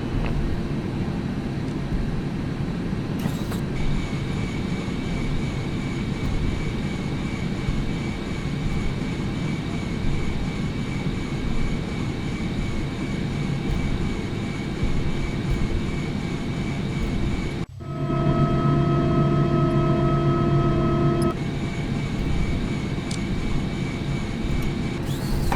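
Airliner taxiing at Taoyuan airport, a steady loud engine drone with whining tones heard from inside, continuous throughout, with a brief sharper shift in pitch near the end.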